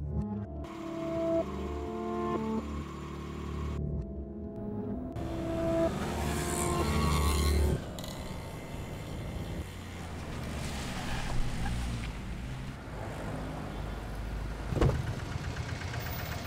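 A car drives steadily along, its engine holding a continuous mid-level drone with no talk over it.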